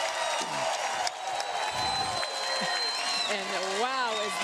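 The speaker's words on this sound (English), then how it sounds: "wow, is this crowd excited" At a pickleball match in the US Open women's senior pro doubles, an excited crowd cheers and whoops with scattered applause, while a commentator talks over it.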